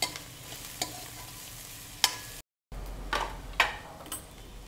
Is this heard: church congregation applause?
no